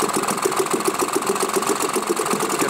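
A British Seagull outboard motor, first started after 40 years, runs with a steady rapid chugging putter that stays loud and close throughout.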